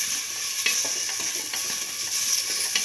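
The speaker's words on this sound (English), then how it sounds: "salt and mix the tomato with the salt. Keep on sauteing" Tomato and salt sautéing in a pan, a steady bright sizzle with soft stirring scrapes and small clicks throughout, close and even in level.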